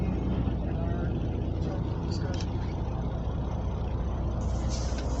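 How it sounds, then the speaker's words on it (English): Trucks idle at a Las Vegas truck stop, a dense, steady low engine rumble close by with a brief faint hiss now and then. "Just chilling at the truck stop"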